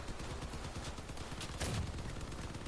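Continuous machine gun fire in the Crossout vehicle combat game, a dense rattling stream of rapid shots over a constant rumbling background, with a slightly louder burst partway through; no one speaks.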